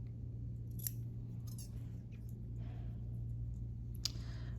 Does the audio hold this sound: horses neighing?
no